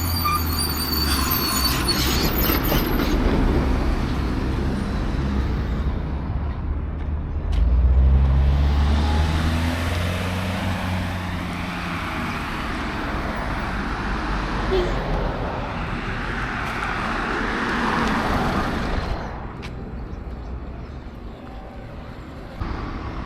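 Heavy lorries rumble past on a dusty road with low, swelling engine noise and a hiss of passing tyres, while a person talks over the traffic.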